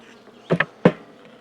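Honey bees buzzing at a newly hived nuc during a hive inspection, a steady low drone with a few louder bursts as bees pass close by.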